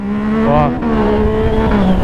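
A motorcycle accelerates hard through the gears, its engine note climbing loud and close, dropping briefly at a shift, then rising again, with no talking.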